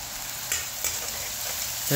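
Crab with spices fries in a pan, a steady hiss of sizzling oil with a few soft scrapes and stirring knocks, close and fairly quiet, with no talk.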